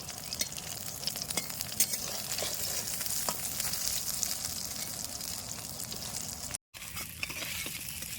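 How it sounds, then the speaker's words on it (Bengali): Steady crackling sizzle of eggplant frying in oil left from frying hilsa fish, continuous and close, with a brief dropout near the end. "ইলিশ মাছ ভাজার তেলে বেগুনগুলো সুন্দর লাল লাল করে ভাজে নিছি"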